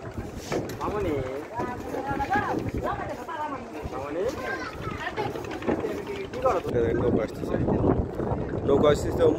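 A boat moves across a river crossing toward a ghat on the Jamuna, its steady rumble and wind noise running beneath continuous nearby talking throughout.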